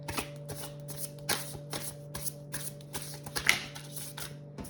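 A deck of animal spirit cards is shuffled close by, a quick run of soft riffling slaps and papery flicks that repeat steadily over a faint background hum, with no talking.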